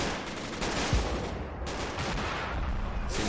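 Sniper fire and other gunfire ring out in the WWII strategy game Men of War: Assault Squad 2. The shots are faint and distant, forming a dense, continuous rattle of battle noise with no voices.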